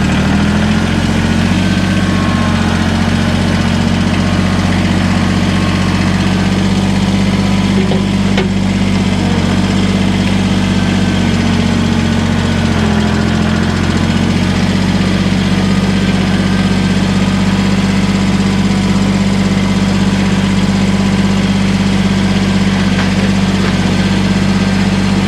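A Kubota BX23S compact tractor idles close by, its diesel engine holding a loud, steady low drone with a faint dip in pitch midway.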